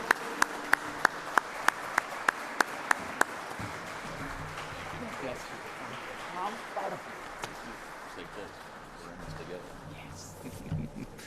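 A standing ovation for the governor at a National Sikh Day celebration at the Indiana State House. It opens with a run of loud, evenly spaced single claps, then settles into a softer crowd murmur and scattered applause.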